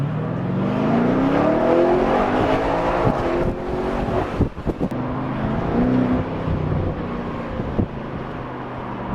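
Mk7.5 VW GTI exhaust giving deep, rumbling burbles that rise and fall with the revs, loud and close, with a few sharp crackles near the middle.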